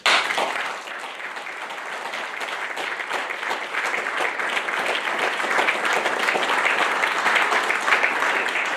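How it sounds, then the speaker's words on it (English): Families at a Navy Nuclear Field A School graduation applaud the new third-class petty officers in a large hall, a sustained, even wash of many hands clapping that holds steady and builds slightly throughout. "Families, please join me in a round of applause for the Navy's newest third-class petty officers."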